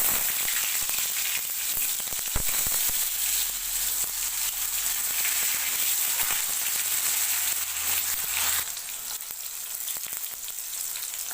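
Raw banana pieces frying in hot oil with black cumin, ginger and green chilli, giving a steady, close, bright sizzle that continues unbroken and eases slightly near the end.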